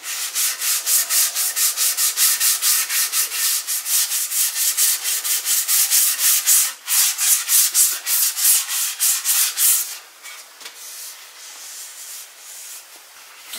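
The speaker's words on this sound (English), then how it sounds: "I don't want to get the sanding onto the binding, I want to leave that without any sanding." Rapid rhythmic sanding strokes rasping back and forth across a wooden guitar body, loud and close, switching to lighter, softer rubbing near the end.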